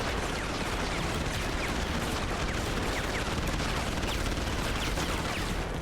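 Continuous heavy gunfire in the video game Deus Ex: Human Revolution, a dense, loud, unbroken wash of shots that fills the whole stretch with no letup.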